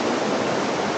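A waterfall near Lake Gerber, swollen after a storm, rushes as a loud, dense, unbroken roar of falling water heard up close.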